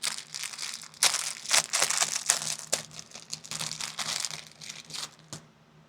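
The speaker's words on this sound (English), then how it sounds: "I'm having a hard time getting the bag open" Plastic packaging bag from a clothing and jewelry order crinkling and crackling as it is pulled open by hand, with bursts of sharp rustling and a few louder crunches, close and alone.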